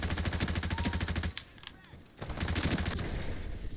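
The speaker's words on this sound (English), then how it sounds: "I prefer to use the MG3 with the modified rifling and silencer combination" Sustained rapid automatic fire from an MG3 light machine gun in the Ironsight shooter game, loud and close, breaking off briefly mid-burst before resuming in a long steady stream.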